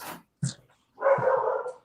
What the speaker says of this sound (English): I got to let my dog out real quick here because she's going to start making a lot of noise.